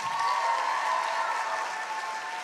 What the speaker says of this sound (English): One more quick round of applause for all the Seussical acts tonight.